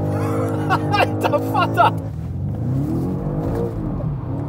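A BMW M5 G90 and an Audi RS7 Performance drift together, engines droning and revving up and down with rising and falling pitch; excited talk and shouting cover the opening moments before the engine sound continues alone.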